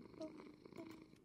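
Soft, low cat purring in a blocky survival video game, a faint steady rumble lasting just over a second, with quiet talk mixed in.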